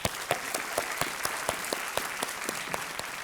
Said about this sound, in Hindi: हम तालियों के साथ आपका अभिनंदन करते हैं।